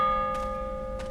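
A bell rung in the horror game Prophecy gives a sustained, ringing metallic tone that hums steadily throughout, with two faint, brief noisy bursts layered over it.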